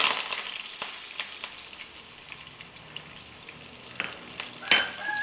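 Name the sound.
mustard seeds popping in hot oil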